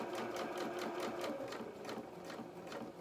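A sewing machine stitches down pleats in kilt fabric, running in a close, steady whirring chatter with an even rhythmic pulse throughout, no voices.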